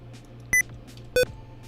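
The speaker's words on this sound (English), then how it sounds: "That beep boop sound is the sound of my keyboard, letting me know when caps lock is on or not" A keyboard's caps lock indicator gives two short bright beeps about half a second apart, each sharp and tonal, over a faint steady background hum.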